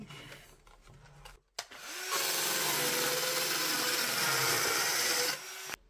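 A Bosch GKS 12V cordless circular saw fitted with a Parkside blade cuts through OSB board. After quiet handling noises, the motor spins up and the blade rips steadily through the wood for about three seconds, close and loud, then winds down.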